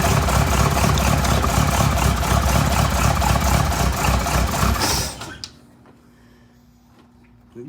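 A 1966 Cadillac Fleetwood V8 runs loud and rough during its first start after sitting, with a steady throbbing rumble that drops away after about five seconds, leaving near silence with a faint hum.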